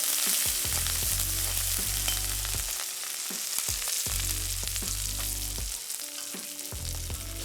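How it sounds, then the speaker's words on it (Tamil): Garlic, green chilies and curry leaves sauté in a hot pan for a brinjal fried kuzhambu, giving a loud, steady sizzle with repeated stirring scrapes throughout and no talking. "பச்சை மிளகாய், கருவேப்பிலை இவ்வளோத்தையும் போட்டு வதக்கணும்."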